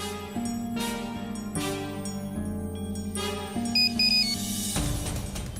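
Ringtone of an outgoing phone call at a wedding venue, a steady repeating melodic tone over background music, with a brighter high beeping pattern near the end.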